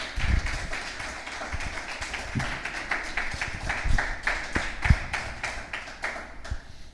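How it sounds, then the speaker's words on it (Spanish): Church congregation claps for the Lord, a moderate, loose patter of hand claps with a few louder individual claps standing out, fairly close and unaccompanied by talk. "Dale un aplauso al Señor, por favor."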